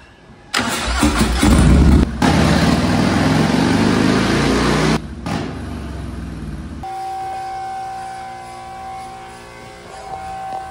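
A Stage 2 Harley-Davidson 117 cubic-inch V-twin with a 30/30 cam fires up and revs loudly during a tuning run. It surges in a few bursts, then drops to a lower steady note alone.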